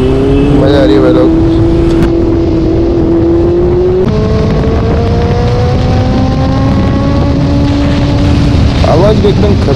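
A superbike with a loud aftermarket exhaust drones steadily while riding, its engine note holding and rising through shifts under wind rumble, with someone talking over it throughout.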